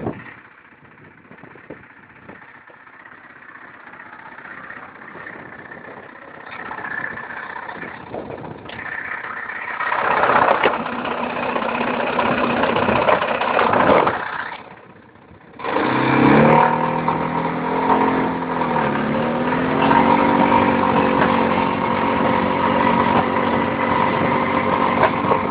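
The engine of an Apache RLX320 utility motorcycle with 65 miles on it runs near a field, idling and rising in pitch with revs, briefly cutting out then catching again and holding a steady loud drone.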